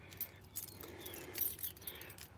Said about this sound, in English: And I got a handful of keys here.